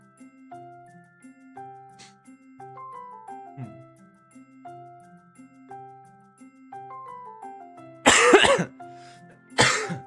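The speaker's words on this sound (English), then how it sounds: "I just had to cough real quick" Music plays quietly with chiming tones, then two loud, harsh coughs break in near the end, close to the microphone.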